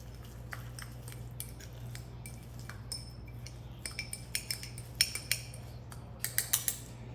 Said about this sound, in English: But we'll get this all mixed up just using a fork.